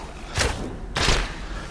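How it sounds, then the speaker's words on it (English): Bullets ricocheting off walls in a video game, two heavy thudding impacts about half a second apart, each with a short noisy tail. "So it looks like I can ricochet the bullets off of walls"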